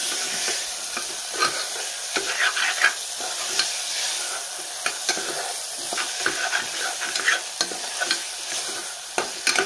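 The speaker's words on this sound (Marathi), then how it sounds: "आपण हे छान मिक्स करून घेऊया." A spoon scrapes and stirs a mixed vegetable curry of peas and beans in a sizzling pan, with steady frying crackle and irregular clinks of utensil against metal, close up.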